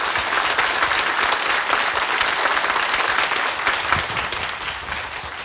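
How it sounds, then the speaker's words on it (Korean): An audience at a Korean economics lecture concert claps together in sustained, dense applause, loud and even, tapering slightly toward the end. "귀한 말씀 해주신 홍성국 대표께 다시 한번 박수 부탁드리겠습니다."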